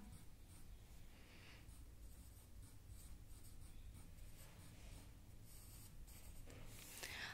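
Faint, steady scratching of writing on a board during a Hindi class lesson, continuing quietly for several seconds with soft breathy noises, and no talking.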